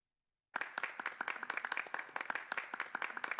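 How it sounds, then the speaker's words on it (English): After half a second of silence, a small online meditation community breaks into clapping: a cluster of distinct, close hand claps at an irregular rhythm, thin and sparse rather than a full crowd. "Let's all give Empty a sound of applause"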